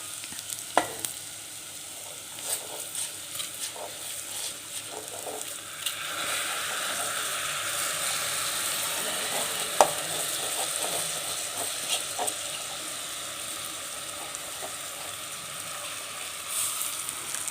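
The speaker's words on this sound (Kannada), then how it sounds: "ಅಕ್ಕಿ ಹಾಕಿ ಅಕ್ಕಿನ ಒಂದಿಷ್ಟು ಒಳಗೆ ರೋಸ್ಟ್ ಮಾಡ್ಕೋಬೇಕು" Washed rice roasting in a pan for toor dal pulao, a quiet sizzle that swells midway, with intermittent scraping stirs and a few sharp clacks of spoon against the pan.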